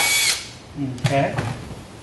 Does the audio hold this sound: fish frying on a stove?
no